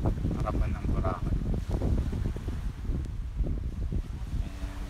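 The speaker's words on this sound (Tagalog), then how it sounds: "sobrang lakas ng hangin dito" Strong wind at Boracay buffets the microphone with a steady, rumbling roar, punctuated by gusts, while a voice talks faintly underneath.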